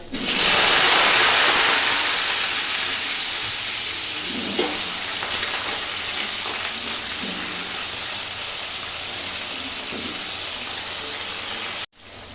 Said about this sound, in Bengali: আলুগুলো ভাজছি, খানিকটা ভেজেছি